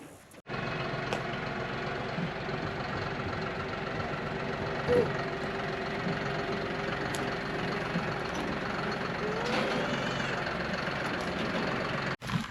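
A tractor engine idles steadily nearby, a constant low mechanical rumble with faint knocking, running the whole time with a few small clunks.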